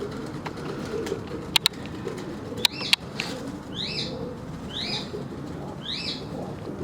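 Tohfa breed pigeons in a loft give repeated soft coos and calls, with sharp wing claps and flutters early on, at moderate distance over a low background hum, no talk.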